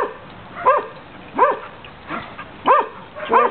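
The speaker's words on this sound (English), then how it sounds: "She doesn't even know what she's barking at." A dog barks five times in a steady, evenly spaced series, each bark loud and close with a slight yelping, whimpering edge, with no other sounds between.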